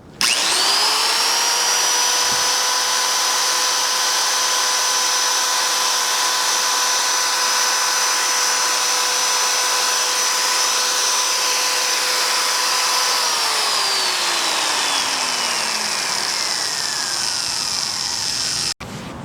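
A drill bores into a Medeco payphone lock, a loud close steady high whine that holds for about thirteen seconds before the pitch slides down as the drill slows and stops.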